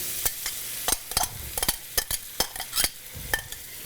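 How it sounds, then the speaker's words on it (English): Mushrooms sizzle in a hot pan over high heat while a utensil stirs them, giving a soft frying hiss broken by irregular scraping and clacking strokes, close and without talk. "I'm throwing these mushrooms in."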